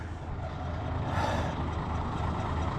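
A Mack truck reverses with a steady diesel rumble, faint repeating backup beeps and a brief hiss of air brake near the middle, heard close and continuous.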